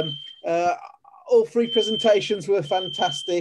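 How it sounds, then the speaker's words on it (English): A high, steady electronic beep from a smoke alarm sounds in repeated long tones while a person talks clearly over it. "I think that's a smoke alarm, actually."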